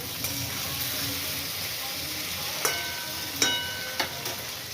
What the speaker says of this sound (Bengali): এই যে পটলগুলো আমি এবারে ভাজবো